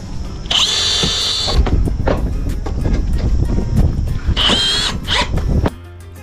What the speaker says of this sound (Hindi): यहाँ पे बढ़िया आराम से स्क्रू लग जाएंगे